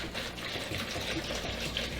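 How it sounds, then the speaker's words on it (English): Water is poured into a bowl of dry sponges, making a steady, close splashing gush with a faint hollow trickle that runs the whole time, with no talk. "and then pour some water in there."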